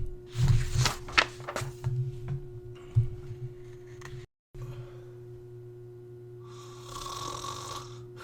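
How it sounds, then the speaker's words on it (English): A person snoring nearby in a room, a few rough breathy snorts in the first seconds over a steady electrical hum, followed by quieter hiss and a brief dropout. "Did you guys hear me snoring?"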